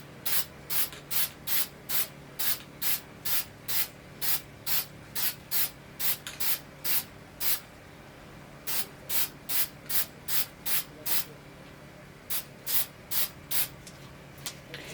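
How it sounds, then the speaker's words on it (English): Short bursts of spray paint hiss from a can in rapid, regular pulses, with brief pauses between runs, close and loud. "this spray paint, my son bought this, and it's just quick color"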